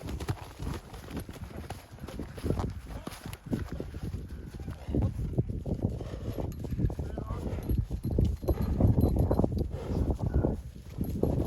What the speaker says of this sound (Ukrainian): Мощна кобила